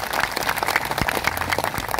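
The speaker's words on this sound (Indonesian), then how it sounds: "kita berikan tepuk tangan sebagai tanda terima kasih" An audience at an outdoor discussion held in a parking lot gives a brief round of applause, a crowd of clapping hands, fairly loud and dense for a couple of seconds.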